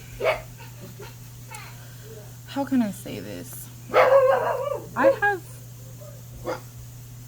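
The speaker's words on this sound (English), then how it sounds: "stop barking" A dog barks several times in short bursts, near and loud, mixed in with someone talking over a steady background hum.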